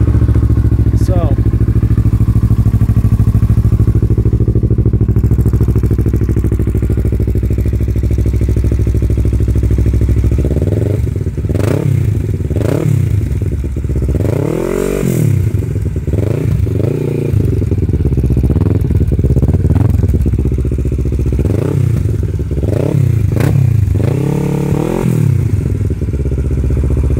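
A 2006 Kawasaki Ninja 650R motorcycle engine starts and idles with a steady low rumble, then revs repeatedly in sharp rising and falling bursts, close and loud.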